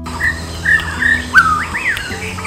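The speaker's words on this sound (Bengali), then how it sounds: "কিছু পাখি গানে অপূর্ব সুর ছড়ায়" A White-throated Fantail sings a close, clear run of sweet whistled phrases, with several rising and falling notes in quick succession over a low background hum.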